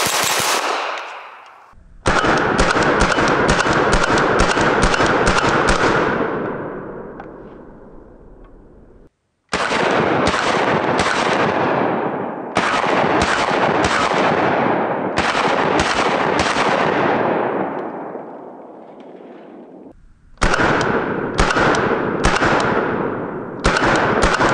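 A CZ Scorpion Evo 9mm carbine fires loud, close automatic bursts, about five long strings of rapid shots separated by brief pauses, with no talking.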